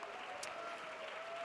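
A live audience at a festival applauds steadily, a faint, even patter of many hands clapping at a distance with no pauses.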